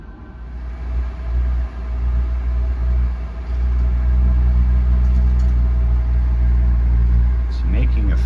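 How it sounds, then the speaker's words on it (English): A Quadra-Fire pellet stove runs with a loud, steady low rumble and roar, a continuous locomotive-like drone that holds throughout, a faint rattle near the end. "It's making a funny sound, like a locomotive."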